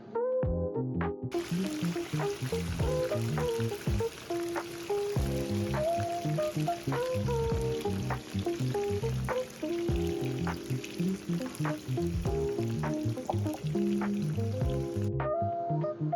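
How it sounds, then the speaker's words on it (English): Chunks of yam frying in a pan of hot oil give a steady, close sizzle that runs without a break for the whole stretch. A tonal melody plays over it. "So for this method, the way you can make your yam crispy is by allowing it to stay longer in the oil"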